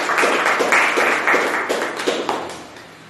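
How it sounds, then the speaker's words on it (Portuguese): A church congregation applauding during a sermon, a brisk run of fairly loud, rhythmic hand claps from a crowd in a reverberant room, fading slightly toward the end. "Aplauda o Senhor aí"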